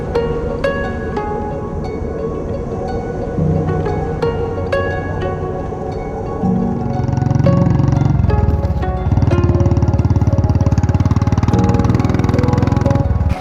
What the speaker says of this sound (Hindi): विशाल को बाइक पर बिठाया और हम निकल पड़े।